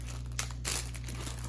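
A plastic bag crinkles in brief, quiet bursts of rustling against a steady low hum, with one slightly louder crackle in the middle.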